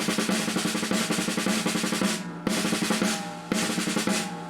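Snare drum roll with accents on the right-hand strokes only, a dense, steady stream of quick hits with regular louder pulses, played loud and close with brief breaks between phrases.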